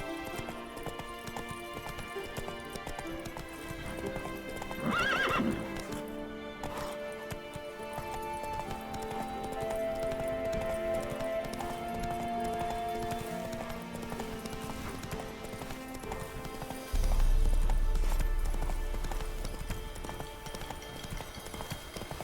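Hooves of the horse Roach clip-clopping at a gallop in The Witcher 3, a steady rhythmic pounding throughout with a brief neigh, a low rumble near the end and faint game music underneath.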